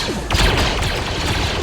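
A barrage of gunfire erupts in a war video game combat scene, loud and dense with overlapping shots, thuds and explosive booms rolling continuously without pause.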